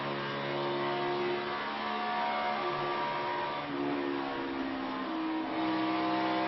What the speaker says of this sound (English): Boy, did you hear him out of the throttle and right back in it, but can't carry that speed off the corner.